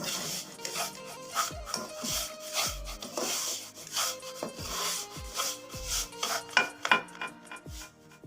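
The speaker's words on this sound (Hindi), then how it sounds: "आराम आराम से इसमें चमचा हम हिलाएंगे।" A spoon scrapes and stirs paneer halwa in a pan over low heat, with steady rubbing strokes and sharp metallic knocks against the pan at irregular intervals, close and moderately loud.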